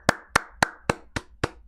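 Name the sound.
wrestler applauding in the ring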